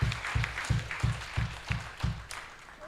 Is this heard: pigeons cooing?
no